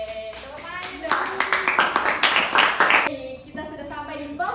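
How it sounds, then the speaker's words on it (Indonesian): Studio audience clapping on an Indonesian children's talk show, a burst of quick hand claps rising for about two seconds between spoken voices. "Oke, tepuk tangan dong."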